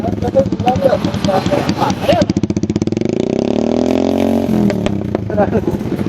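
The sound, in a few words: motorcycle engine started and revved for decibel meter test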